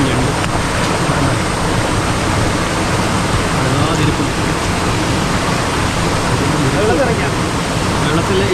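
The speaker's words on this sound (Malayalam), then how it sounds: "ഇതാണ് ആ ഇരപ്പാങ്കുഴി വെള്ളച്ചാട്ടം" Rushing water at Irappankuzhi waterfall in Amboori, Thiruvananthapuram, roars as a dense, steady, loud wash of noise throughout, heard from close by.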